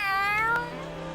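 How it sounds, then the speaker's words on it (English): A cat meows in Tales of Arise: Beyond the Dawn, one drawn-out, downward-gliding meow close and clear over a soft steady game hum. "The cat made the noise."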